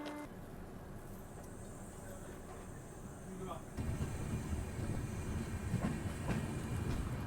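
Patna-Howrah Express pulling out of Lakhisarai Junction, a steady low rumble of rolling stock that grows louder and heavier partway through, with faint clatter and a voice talking over it.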